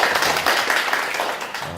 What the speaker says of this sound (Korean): 칭찬의 박수를 제가 막 먼저 칩니다.